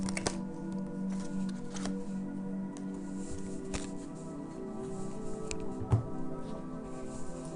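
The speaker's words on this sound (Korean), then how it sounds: "새로운 인연은 어떨지 한 장만 카드 뽑아보도록 할게요" Tarot cards being shuffled by hand, a soft continuous riffle of sliding card stock with occasional sharp snaps and taps, close and quiet over a faint low hum, no speech.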